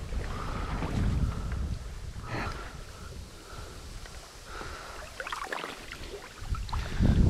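Strong wind blows outdoors by a river in midwinter, gusting and buffeting against the microphone with low rushing noise that rises and falls, and a faint hiss of moving air in the background.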